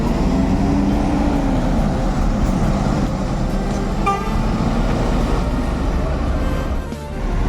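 An NPM V50 bus pulling out of Kampung Rambutan terminal sounds a long, steady horn toot over a loud, continuous rumble of engines and terminal traffic, with a brief dip near the end.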